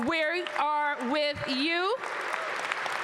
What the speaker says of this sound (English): I also want to thank the Washington Wizards, our wonderful players. Give them a round of applause.